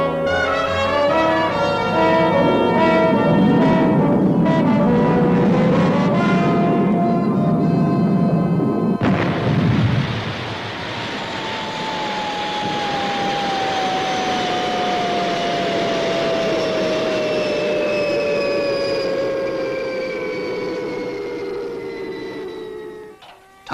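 Retro rockets of the Fireball XL5 spacecraft fire during its approach to a landing pad: a loud, sustained roar with a descending whine, shifting partway through into a steadier rushing drone that fades near the end.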